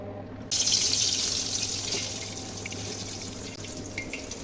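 Eggplant frying in a wok of soybean oil mixed with mustard oil, a steady bright sizzle that bursts in suddenly and then hisses on evenly, close and fairly loud with no voices.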